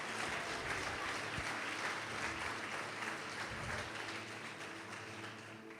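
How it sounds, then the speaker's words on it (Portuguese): Church congregation applauding during a Portuguese-language service, a dense, steady clapping that fills the room and fades slightly toward the end, with no clear talk over it. "Pode aplaudir o Senhor Jesus, ó."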